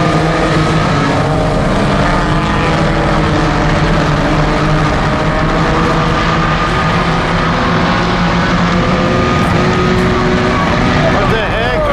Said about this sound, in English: There's a lot of fast cars this night.